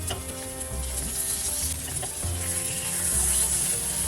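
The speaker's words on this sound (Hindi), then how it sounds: "अभी और 2 मिनट हम लो टू मीडियम फ्लेम पे फ्राई करेंगे और एक साइड।" Sabudana appe sizzling in oil in a non-stick appe pan over low to medium flame, a steady close hiss and crackle of frying with small pops, with no talk.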